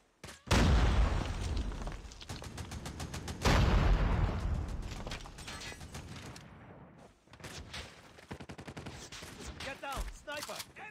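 Rapid gunfire bursts and heavy booms from grenade explosions in the mobile shooter game Call of Duty Mobile, with loud blasts at the start, a second big detonation, and then scattered shots and quick volleys.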